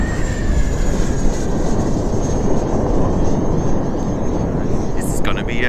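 An FMS Avanti V3 70mm EDF jet model aircraft flies over a grass field with a steady, loud ducted-fan roar and whine whose pitch slowly shifts as it passes.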